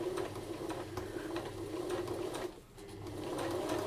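A domestic sewing machine stitches fabric for a simple baby apron around a curve, a steady close mechanical whir with rapid needle rhythm, pausing briefly at a corner before resuming.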